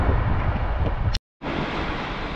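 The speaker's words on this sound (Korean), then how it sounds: "오늘은 파도가 좀 센 것 같아요, 보통 어제보다" Strong ocean surf on a beach, a loud, close rushing roar of breaking waves with heavy low rumble, briefly cut by a moment of silence before the wash resumes.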